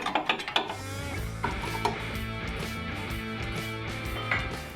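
A ratchet wrench works a rusted bolt on a Jeep YJ, with a quick burst of sharp clicks at the start, then a steady grinding, clattering metallic drone and a few more clicks, close and fairly loud.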